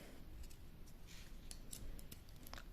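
Scissors snip yarn during crochet work, several faint, sharp little clicks and cuts scattered over a soft hiss, close by and quiet.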